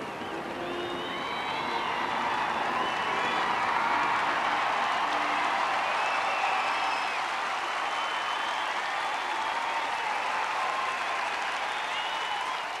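A buoyant Wimbledon crowd at Court 2 roars and applauds through a Mexican wave, a dense, sustained wash of clapping and cheering with scattered whistles, swelling slightly and holding steady for the whole stretch.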